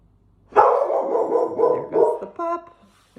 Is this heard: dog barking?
yes